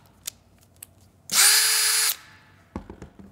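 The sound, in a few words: cordless drill running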